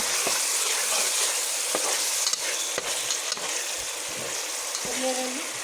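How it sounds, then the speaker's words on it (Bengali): Spices and bay leaves frying in oil for duck curry while being stirred, a loud close crackling sizzle broken by repeated spatula knocks and scrapes against the pan. "এখানে আমি 3টে তেজপাতা দিয়ে দিলাম, দিয়ে ভালো করে নেড়ে দেবো।"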